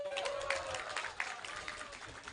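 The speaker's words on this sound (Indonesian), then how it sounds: "Teman-teman boleh tepuk tangan siapa yang dari kemarin menantikan desak Anies di Lampung?" A crowd at an outdoor political campaign event in Lampung claps in a faint, distant wash of applause, steady with small swells.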